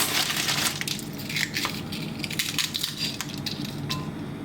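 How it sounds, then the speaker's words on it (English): Fritos corn chips being crushed by hand for chili make a close, continuous crunching and crackling that stays dense and fairly loud throughout. "And I'm gonna be adding some Fritos. Crushing them because I don't have the small ones."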